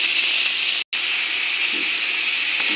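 Chopped tomato hits a hot spice tempering and gives off a steady, loud hissing sizzle, broken by one brief cut-out near the start.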